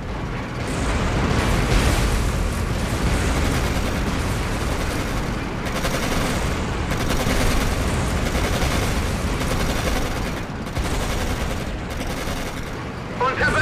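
A tank battle in the Codename Panzers: Phase One strategy game brings dense, continuous gunfire and booming explosions. The roar is loud and sustained, with bursts overlapping one another and no clear pauses.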